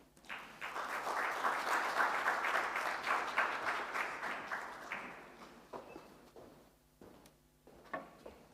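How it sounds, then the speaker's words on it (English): At the launch of Jamaica's National Multidimensional Poverty Index in Kingston, an audience breaks into a burst of applause that peaks, then thins to scattered claps and fades after about five seconds. "Ladies and gentlemen, another round of applause for Mr. Ellis."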